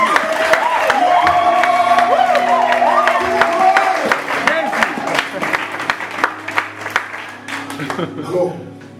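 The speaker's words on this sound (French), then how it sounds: "Quelqu'un acclame encore pour le Seigneur." A church congregation claps and cheers in praise during a sermon, a sustained ragged burst of handclaps and shouts with a high whistle-like cry early on, thinning toward the end.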